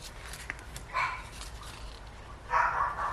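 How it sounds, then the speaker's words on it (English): Pet dogs bark indoors in two short, moderately distant bursts over a quiet room background. "I apologise for my dogs barking."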